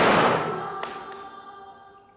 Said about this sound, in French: survient une explosion